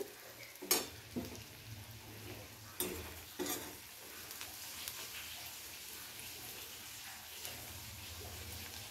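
Onions frying to light brown in a pan for Bengali aar fish kalia, a soft steady crackling sizzle with a few sharp spoon scrapes and taps near the start.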